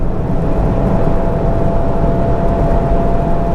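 A Mazda MX5 race car engine drones loud and steady at high speed around Thruxton circuit, a constant dense roar with a faint tonal whine and no breaks.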